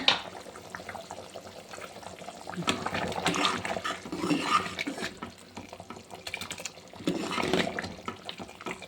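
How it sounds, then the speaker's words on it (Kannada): Chicken kurma gravy bubbles in a pot, giving irregular wet, gurgling bursts that rise and fall at close range, with brief quieter gaps between. "ನೋಡಿ ಕುರ್ಮಾ ಗೊಜ್ಜು ರೆಡಿ ಆಯಿತು ಕುದೀತಾ ಇದೆ"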